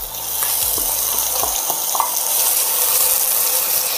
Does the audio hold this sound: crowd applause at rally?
no